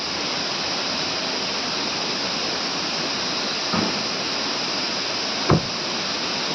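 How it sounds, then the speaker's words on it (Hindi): A waterfall near Nandprayag in the Himalayas roars as a steady, dense wash of rushing water, loud and continuous, with two brief knocks breaking through near the end. "यह नंदप्रयाग के पास एक बहुत ही सुंदर झरना"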